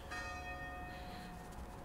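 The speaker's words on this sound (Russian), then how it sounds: "слышите" A church bell in Oviedo, Asturias, Spain, rings with a sustained, humming tone, heard faintly from a distance.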